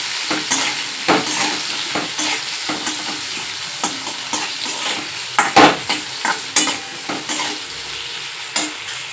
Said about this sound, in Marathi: टोमॅटो घालून घेतला मी, ते सुद्धा असं त्याला चांगलं परतून घ्यायचा